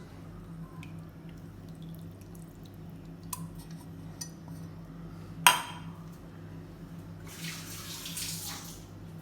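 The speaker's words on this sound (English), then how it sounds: "To this I am going to add a bit of tamarind juice." Tamarind juice poured onto rice and vegetables in a quiet kitchen. A few faint clinks come first, then a soft, brief liquid splash and trickle near the end.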